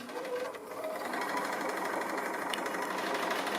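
A sewing machine runs steadily during free motion stitching of a quilted tree applique, a continuous rapid mechanical whir and needle chatter at moderate volume, uninterrupted and with no talk.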